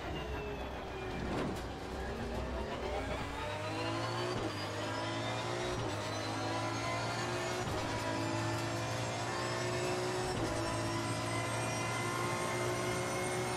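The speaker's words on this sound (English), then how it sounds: "The echo almost makes the car sound like an Indy car." Race car engine in the Assetto Corsa Competizione racing game, loud and continuous, with rising revs, gear shifts and a ringing echo giving an Indy-car-like whine throughout.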